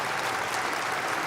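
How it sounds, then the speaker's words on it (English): Steady applause from a crowd at a Christmas tuba concert, dense and continuous clapping with no pauses. "how about a round of applause for all these wonderful instrumentalists up here on the platform?"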